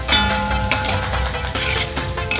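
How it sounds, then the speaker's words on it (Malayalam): Dried fish fried with chilli and turmeric powder is stirred in a hot pan, giving a loud, steady sizzle with scraping stirs throughout. "ഇതിങ്ങനെ ഇളക്കി യോജിപ്പിച്ചെടുത്ത് കഴിഞ്ഞാൽ നല്ല സുന്ദരമായ മീൻ വറുത്തത് റെഡി."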